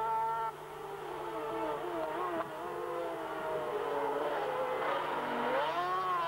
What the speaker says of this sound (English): The engine notes soar as the lead outfits get wheel spin on the rain-soaked surface.